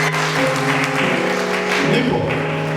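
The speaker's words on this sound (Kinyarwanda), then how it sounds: "Dukomere abashumba amashyi menshi." Wedding guests at a religious ceremony clap together in sustained, dense applause, with steady musical tones from the hall continuing beneath the clapping throughout.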